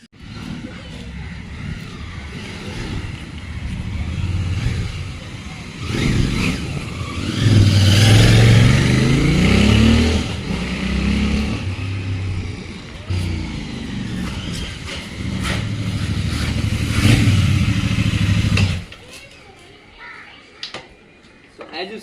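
A Bear 650 motorcycle engine runs close by, its low rumble swelling in a few revs and surges before cutting off near the end, with voices talking over it.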